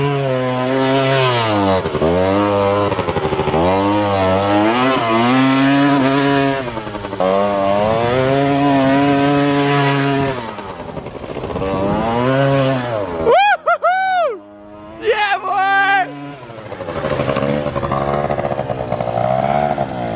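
A small moped engine drifting in mud revs hard and repeatedly, its buzzing pitch climbing and falling in long, loud sweeps, then cuts out briefly before high-pitched revving resumes.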